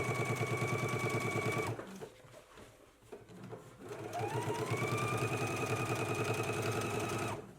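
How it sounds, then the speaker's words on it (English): A sewing machine runs a quarter-inch top stitch along a jacket yoke seam, close and loud, in two fast bursts with a short pause between them and no talking. "we can go ahead and do a 1/4 inch top stitch right here beside this seam"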